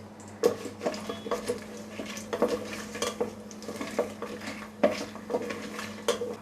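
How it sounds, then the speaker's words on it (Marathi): Whole spices sautéed in oil for a mutton thali, with a spoon scraping and clinking against the pan in irregular strokes over a faint steady sizzle, close and moderately loud with no talking. "तर आता हे तेलामध्ये घालूया आणि हे खडा मसाला आहेत ना चांगले परतून घ्यायचे आहेत"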